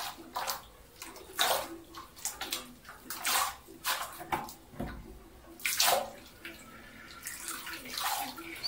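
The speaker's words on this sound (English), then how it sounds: "I'm going to rinse out the shampoo" Water running and splashing while shampoo is rinsed out of a wig, uneven gushing bursts that swell and drop as the hair is moved under the stream, close and fairly loud.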